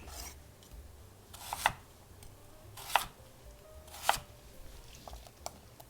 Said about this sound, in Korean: 여기서 이제 2cm씩 나누죠.